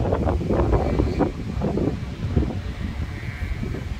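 Strong foehn storm wind buffets the microphone in loud, gusting roars, rumbling and uneven with rustling, easing slightly toward the end.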